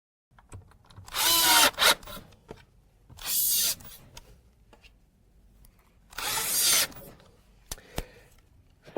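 Cordless drill driving 16 mm screws to mount a Grass Dynaneo drawer slide onto a cabinet, three short loud whirring bursts separated by quiet pauses and small handling clicks.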